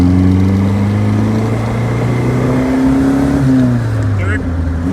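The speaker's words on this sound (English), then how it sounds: "Downshifting into second gear, and then I'll go ahead and just kind of get on it a little bit here." A 1961 Triumph TR3A engine pulls hard in second gear, its loud droning note rising steadily in pitch and dipping briefly near the end, heard up close from inside the car.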